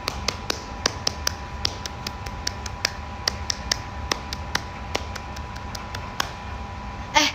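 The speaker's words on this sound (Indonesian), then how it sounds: "Tepuk pramuka." Scout clap rhythm, tepuk pramuka, tapped out as sharp, crisp claps in a patterned sequence with short groups and pauses. The claps are fairly faint against a low background hum, and a louder burst comes right at the end.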